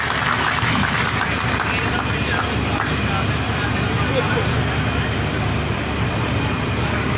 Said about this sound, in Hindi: इनके सम्मान के लिए जोरदार ताली बजा के दिखा दो एक बार